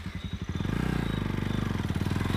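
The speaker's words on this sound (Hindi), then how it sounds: "उसके बाइक की आवाज़ हाईवे पर कुछ सेकंड तक गूंजती है" A motorcycle engine idles with a steady, rapid throbbing pulse, fairly close and continuous, with a slight rise in revs partway through.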